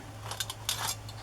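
Scissors make a few short crisp snips through card while cutting a jellyfish piece for a sea-themed tag, quick close clips over a low steady hum.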